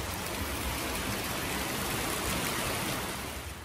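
Steady, dense wash of heavy rain pouring down, a constant broadband hiss with no breaks and no voices.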